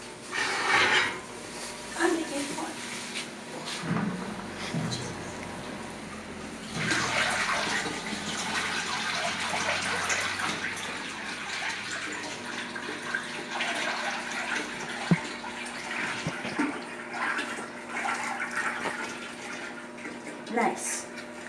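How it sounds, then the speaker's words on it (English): Water pours from a cooking pot while making tamarind syrup, a steady splashing rush running through most of the stretch with brief handling clatter, and a voice talking over it. "So now I'm going to take the pot and begin pouring."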